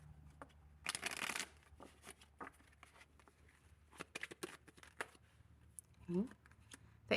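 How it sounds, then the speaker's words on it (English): Tarot cards are shuffled near and close, with a burst of riffling followed by scattered soft flicks and taps in a quiet room. "We're just going to shuffle it really quick."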